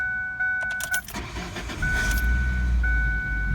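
Engine start on a 2004 Ford Focus ZX5 with a Zetec engine and high mileage, just after coil pack and harness replacement: a brief crank and catch, then a steady low idle running on alone.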